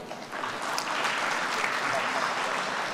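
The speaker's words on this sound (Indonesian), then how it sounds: "Tepuk tangan dong." A hall full of people applauds at the Kadin 2024 national leadership meeting in Indonesia, broad continuous clapping that swells and holds evenly.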